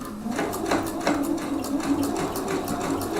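A domestic sewing machine stitches a fold with adjusted thread tension, running at a fast, even rhythmic clatter close by throughout.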